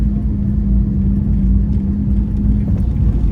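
Car on a driving exam route in Uzhhorod, pulling away in first gear, a steady low engine drone heard loudly from inside the cabin with no talking.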